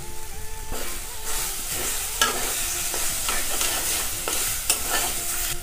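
Pointed gourd is stir-fried with coriander powder in a pan, giving a continuous sizzle broken by repeated scraping and clinking strokes of the spatula.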